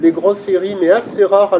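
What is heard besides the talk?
None of the usual background noises is heard.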